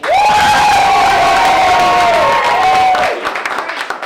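Loud studio audience cheering at a tournament with one long sustained yell on top, claps and shouts mixed in, then the roar drops into lighter scattered applause.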